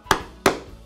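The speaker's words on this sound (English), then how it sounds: "I will use the 3/32 inch thonging chisel to punch all the way around." Two crisp, loud strikes of a mallet on a 3/32 inch thonging chisel punching lacing holes in leather for a slim wallet liner, evenly spaced with a brief ring after each.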